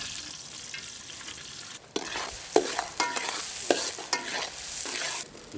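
Chopped onion frying in a pan while being stirred, a steady hiss broken by scraping spoon strokes and bursts of sizzle, close and moderately loud, cooked outdoors in a village kitchen alongside mud crab and baby coconut.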